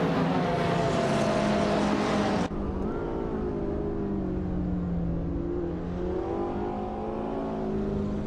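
A 2018 Ferrari 488 Pista supercar engine roars steadily in a racing video game, loud and close, with a bright high-pitched whine that suddenly drops as the revs shift, then climbs and falls through further gear changes.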